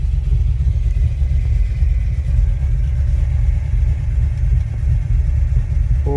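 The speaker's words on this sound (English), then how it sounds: "We may just take it for a little zoom and see how she goes." A 1971 Ford Falcon XY GT replica drives along, its engine giving a loud, steady low rumble inside the cabin that holds constant throughout with no clear revving peaks.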